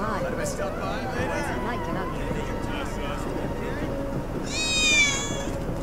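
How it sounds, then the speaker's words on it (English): Final Fantasy VII Remake game dialogue and ambient sound fill most of the stretch, then a short, bright cat meow rises out near the end. "That was definitely a cat"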